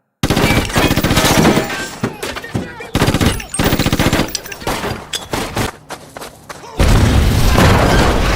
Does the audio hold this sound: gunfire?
yes